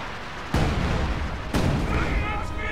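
Artillery barrage in a war video game match, with two heavy booming impacts about a second apart that land loud and close over a dense, continuous rumble of battlefield noise, followed by faint tonal whines near the end.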